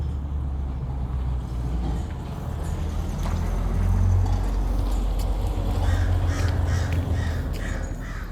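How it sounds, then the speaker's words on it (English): A crow keeps up noisy calling outdoors, its caws rising faintly over a heavy, continuous low rumble of traffic or wind, with some sharper calls near the end. "Oh my God, it's making so much noise."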